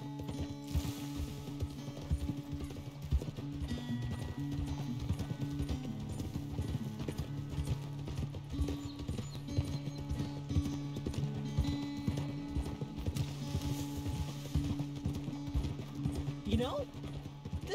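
Rhythmic clip-clop of horse hooves trotting steadily throughout in a video game featuring John Marston, over a continuous musical drone, with a brief whinny near the end.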